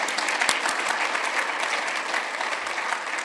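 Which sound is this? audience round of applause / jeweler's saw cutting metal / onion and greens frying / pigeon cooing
audience round of applause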